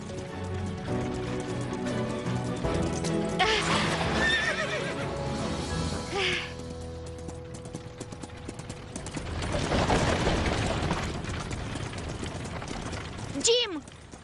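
Horse neighing and hooves clip-clopping in a Lena's Farm animated episode, with a whinny rising mid-clip and a sharp squeal near the end, over steady background music and hoofbeats.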